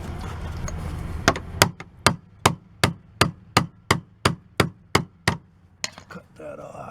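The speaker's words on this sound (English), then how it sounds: "so I'm trying to use a chisel" A hammer drives a chisel into rotted wood in the corner of a door frame beside siding: about a dozen sharp, evenly spaced knocks, close and loud, over faint background noise.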